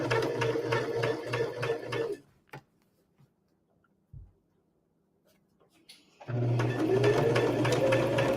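Sewing machine stitching quilt blocks, fast rhythmic ticking bursts at the start and end with a quiet pause between holding a few faint clicks.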